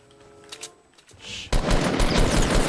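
Dense burst of automatic gunfire in a Fortnite match, quiet at first and then loud and continuous rapid shots filling the last second and more.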